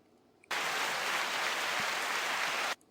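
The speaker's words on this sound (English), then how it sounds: "And big applause for that, dude." A burst of applause, dense and even like a canned crowd clapping effect, starts abruptly, holds at a steady level for about two seconds and then cuts off cleanly into quiet.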